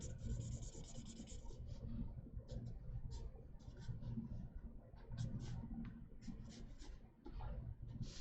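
Graphite pencil rubbing tone onto paper for an architectural concept drawing, a soft scratchy hiss in repeated short strokes with brief pauses, close and quiet throughout.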